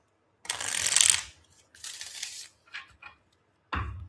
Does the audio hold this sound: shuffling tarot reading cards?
yes